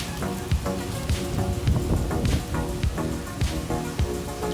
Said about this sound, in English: This is some storm, hon.